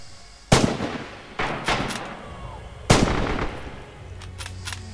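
Machine gun and artillery fire in the Stalingrad battle game Red Orchestra 2: loud, sharp blasts crack in at intervals, each trailing a booming echo, with distant gunfire rattling between them and no speech.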